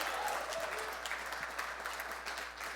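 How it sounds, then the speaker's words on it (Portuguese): Steady applause from a church congregation during a service, a continuous patter of many hands clapping at moderate distance, fading slightly toward the end. "Tem alguém que pode aplaudir ao Senhor Jesus por isso?"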